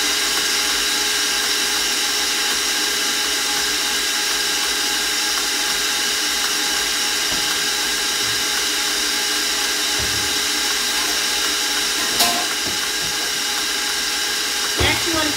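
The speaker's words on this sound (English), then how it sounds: "Mix it slowly low before you turn it up so you don't get sugar everywhere" An electric mixer runs steadily on low, beating powdered sugar into cream for a fresh strawberry cream pie, a continuous motor whir with a couple of brief knocks near the end.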